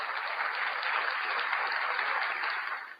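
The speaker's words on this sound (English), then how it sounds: "everybody giving you a round of applause" A dense, steady round of applause from a crowd, fairly loud and continuous throughout before tapering off at the very end.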